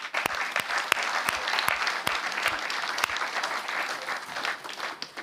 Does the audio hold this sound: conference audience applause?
yes